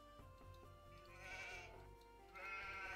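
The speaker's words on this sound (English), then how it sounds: "Oh, sheep. Lovely." Sheep in Age of Empires 2 HD bleat twice over a steady game soundtrack, each call a wavering, nasal cry lasting about a second.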